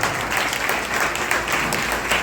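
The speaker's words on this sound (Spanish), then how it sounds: "Vamos a darle un aplauso a todas las madres." A church congregation applauds the mothers present, dense and steady clapping from many hands filling the room for a couple of seconds.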